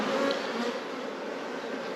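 Honey bees, British black bees from Northumberland, buzz in a dense, steady drone after a frame is shaken out into a hive split, a close swarm sound with no voices.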